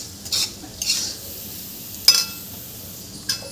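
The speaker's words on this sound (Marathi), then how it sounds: "आता इथे आपण शिजवलेला भात घालून घ्यायचा आहे आणि याला छान मिक्स करून घ्यायचं आहे" Cooked rice being mixed into frying masala for street-style veg fried rice, a few separate scraping stirs and a metallic clink against the pan over a quiet background, close by, no speech.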